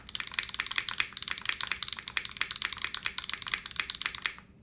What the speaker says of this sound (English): Oh, the curry switch sounds great on this.